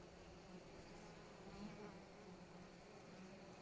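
Many honeybees buzz at a hive entrance in a steady, dense drone close by, a continuous hum with no pauses or voices.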